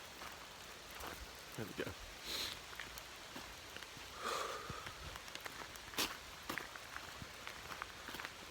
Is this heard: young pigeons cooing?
no